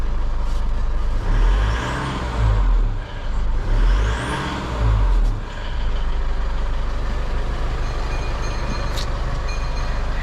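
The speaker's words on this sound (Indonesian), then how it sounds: "Ciri khas mobil diesel ada nyingnya" An Isuzu MU-X diesel engine idles steadily with a faint turbo whistle riding on top, a constant low throb broken by a couple of brief revs, close and loud with no talk.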